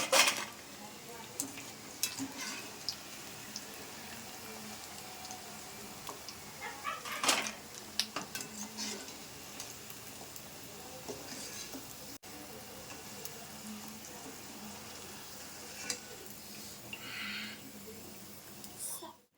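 Chicken pakoda deep-frying in hot oil in a street-style home kitchen, a faint continuous sizzle with scattered clinks and utensil scrapes, a dog barking briefly in the background.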